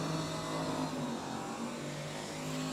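A Ford Econovan fitted with an LS V8 engine at a drag strip, a loud steady engine drone holding a constant rumbling tone throughout, close and without speech.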